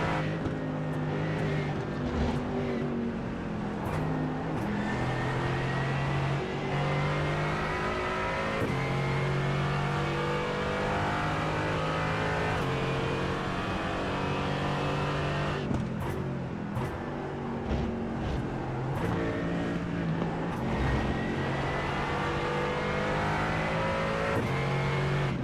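A Mercedes-AMG sports car races at Oschersleben in onboard view, its engine droning steadily loud throughout with rising and falling revs through gear changes and a few brief dips off throttle.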